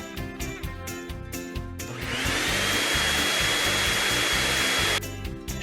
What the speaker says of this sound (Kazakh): Шаңсорғыш